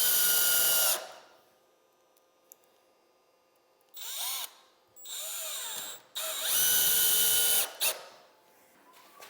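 Power drill driving the last screws into a window jamb extension frame, with three loud bursts of whirring separated by quieter gaps, close and alone.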